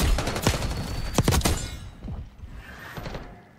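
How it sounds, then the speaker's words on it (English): Rapid bursts of gunfire in Black Ops 6 multiplayer, loud sharp cracks clustered in the first half followed by quieter thuds and scattered shots, with no talking. "I'm just shooting everybody."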